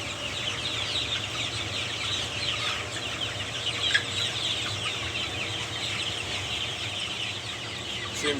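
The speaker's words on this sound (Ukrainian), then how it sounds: "Півники і курочки." A flock of roosters and hens clucks and chatters steadily, many birds at once, with a continuous busy murmur and no voices.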